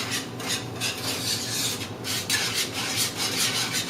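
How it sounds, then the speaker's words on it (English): Tomato paste being stirred and combined in a pot for shrimp and grits, steady scraping and rubbing strokes in a quick repeating rhythm, close and fairly loud, with no talk. "Also combine the tomato paste until thoroughly combined"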